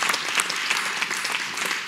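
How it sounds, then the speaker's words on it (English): An audience at a Black Legends of Silicon Valley awards ceremony breaks into dense, steady applause, many hands clapping at once in a continuous loud wash that holds throughout. "let's give them a round of applause"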